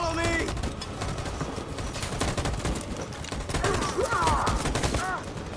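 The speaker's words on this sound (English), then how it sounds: "That machine gun is taking everything that moves" Machine gun fire and dense overlapping gunshots crackle continuously for several seconds in a loud battlefield scene, with faint voices and bird-like whistles mixed in.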